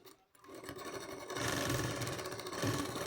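A sewing machine stitches a katori blouse, running in a fast continuous whir after a brief pause at the start, growing slightly louder and holding steady.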